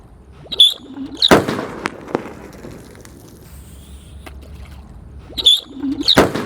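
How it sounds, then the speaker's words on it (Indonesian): A large firecracker set off in water bursts out muffled early, then a second booming blast near the end, with birds chirping in the background. "eksperimen menyalakan mercon yang suaranya menggelegar di kobangan air atau di dalam air"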